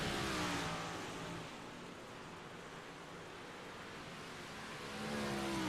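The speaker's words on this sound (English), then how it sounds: "Practice going to be winding down any moment here. Cars out getting laps." Big block modified race cars run practice laps on a dirt track, heard at a distance as a broad wash of engine roar that swells, fades through the middle and rises again as cars pass.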